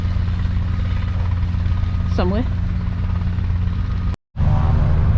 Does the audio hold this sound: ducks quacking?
no